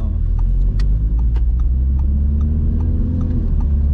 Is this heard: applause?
no